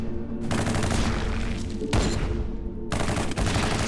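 Rapid bursts of automatic gunfire in the survival shooter Pandorium Survivor, dense and loud, cutting out briefly between volleys, with no talk over them.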